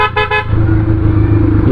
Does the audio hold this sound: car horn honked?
yes